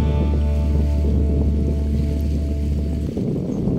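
Waves washing at Dolomite Beach on Manila Bay, a steady loud wash of water with a low rumble of wind, continuous throughout, with a brief dip near the end.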